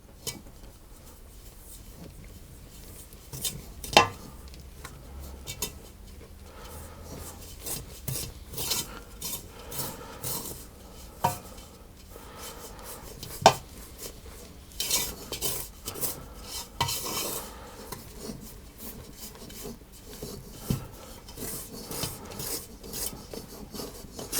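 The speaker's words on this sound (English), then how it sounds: "I'm just going to stir those around and mix them manually just for a moment or two" Flour and salt stirred by hand in a bowl, an uneven run of dry rasping and rubbing scrapes with occasional knocks against the bowl, close and moderately quiet, with no talking.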